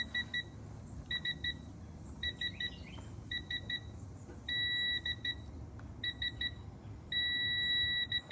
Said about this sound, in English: it's beeping at me right around 24, 25